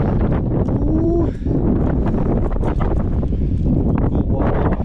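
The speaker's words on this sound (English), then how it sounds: "It's quite windy." Wind roars over rocky slabs at an outdoor climbing area in Oklahoma, a constant loud rush of microphone buffeting that carries on without pause and has no talk over it.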